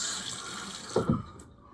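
Brief splash of water running from a tap, a short burst that fades quickly.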